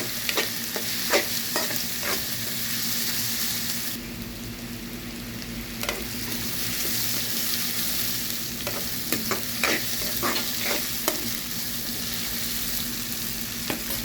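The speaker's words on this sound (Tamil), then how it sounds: "நல்லா கிண்டி விட்ருக்காங்க" Chicken fries in a pan for a pepper chicken fry, with a steady close sizzle broken by repeated scrapes and knocks of a spoon stirring it. No one talks.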